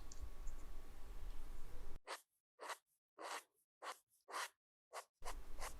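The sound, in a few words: stylus pen writing on tablet screen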